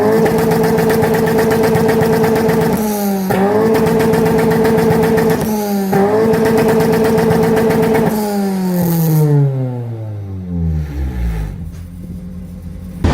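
A 16-valve 1600 car engine revs up in several rising and falling bursts, holding high revs before winding down steadily to idle, close and loud.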